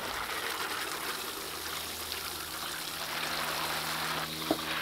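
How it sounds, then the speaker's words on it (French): A 10-litre watering can pours over freshly planted winter leeks with a steady, close splashing trickle that lasts the whole time, ending with a brief clunk. "Et là, on arrose."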